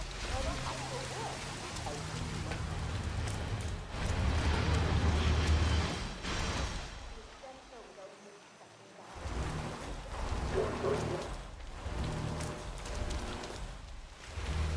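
Steady rain hisses and patters across a night-time scene in the video game Hitman 3, a continuous wash of noise with voices talking faintly over it.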